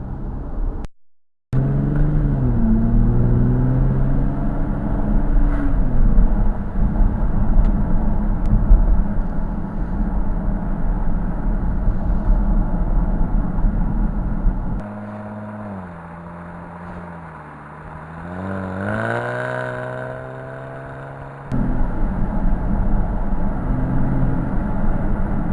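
A Jaguar F-Type sports car rolls over a bumpy road with a steady engine drone and tyre rumble from inside the cabin, its pitch rising and easing through gear changes, with a brief drop-out near the start.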